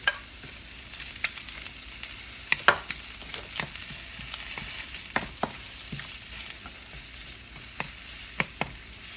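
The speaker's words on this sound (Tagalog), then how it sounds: "Okay, then I'm adding onion." Onion sizzles in a hot pan while cooking vegetables with dried fish, a soft steady frying hiss broken by scattered sharp crackles and pops, close and without talking.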